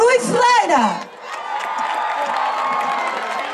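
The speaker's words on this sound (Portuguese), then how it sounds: "peço também o vosso aplauso para o Rui Ferreira" A festival crowd at an outdoor Zumba event in Amarante roars with cheers and whoops and keeps up a steady wash of noise after a shouted voice at the start.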